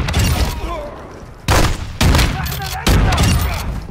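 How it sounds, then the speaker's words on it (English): Heavy blasts and booming gunfire in MW2 DMZ, three loud explosive impacts with rumbling tails over a dense background of firing. "that's a rocket launcher"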